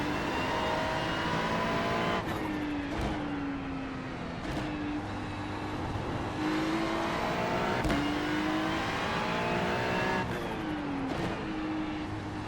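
A Ferrari 296 GT3 race car driven in iRacing at Zandvoort, its engine droning loud and steady through repeated rising revs. Sharp gear-change breaks come every couple of seconds, with no voices over the engine.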